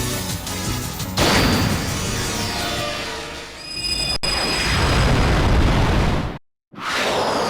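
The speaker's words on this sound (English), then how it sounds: "The explosion." A massive blast in a Naruto Shippuden video game roars with a loud sustained whooshing rumble, a second swelling surge, then cuts briefly to silence before the noise returns.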